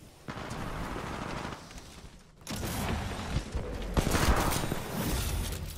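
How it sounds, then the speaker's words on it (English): A submachine gun with attachments fires in Titanfall 2, heard as dense, loud bursts of rapid automatic gunfire that stop and restart over a few seconds of game action. "I'm running right now a submachine gun with a couple attachments"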